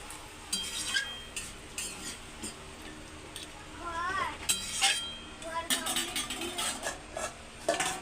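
Metal pan and lid clinks and scrapes as a lid goes onto a pan of rita fish curry in a home kitchen, light scattered knocks under quiet talk.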